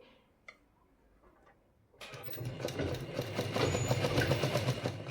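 A sewing machine stitching a blouse in a tailoring lesson starts after a quiet pause, then runs in a steady, fast, rattling whir at close range to the end.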